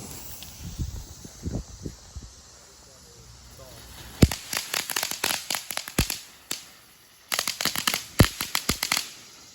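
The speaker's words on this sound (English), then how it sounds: "So we got our first crackles of the video." A Fourth of July consumer crackling firework called Sauce bursts into dense clusters of sharp pops and sizzling crackles that come in rapid, uneven volleys, loud and close, with short pauses between bursts.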